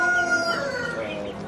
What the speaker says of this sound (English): So these are our quails.